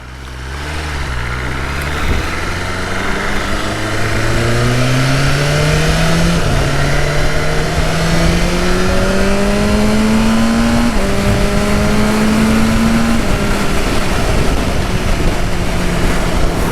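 A BMW M1000R Competition motorcycle engine under riding, pulling up through the gears with rising pitch sweeps and brief drops at each shift, loud and continuous over wind rush.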